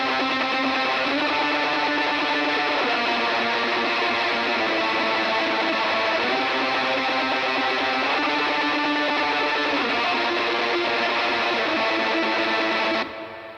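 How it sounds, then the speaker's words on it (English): A distorted black metal guitar passage played through a Ugritone plugin with reverb on an effects channel, with dense sustained chords shifting every couple of seconds, loud and continuous, then cutting off abruptly at the end. "You hear that reverb in?"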